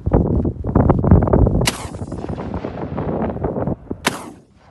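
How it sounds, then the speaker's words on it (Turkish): Two sharp, loud shotgun slug shots from an Impala Plus shotgun crack out outdoors over a long range, spaced a few seconds apart, over rumbling background noise. "İki tane de Enes atıyor slug namluyla."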